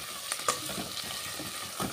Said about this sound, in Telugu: ఆనియన్ అయితే ఫ్రై అయిపోయిందండి